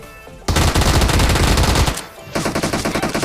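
Close, loud automatic gunfire from a mobile shooter game rattles in a sustained burst. After a short gap, a second run of rapid, evenly spaced shots follows.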